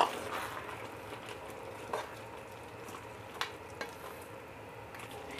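Eggplant and tilapia stirred in a frying pan, giving a soft, steady sizzle with a few faint scrapes and taps of the utensil against the pan.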